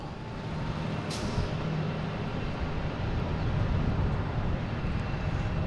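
An airplane at Boston Logan International Airport, a steady distant engine rumble and whoosh that swells slightly toward the end.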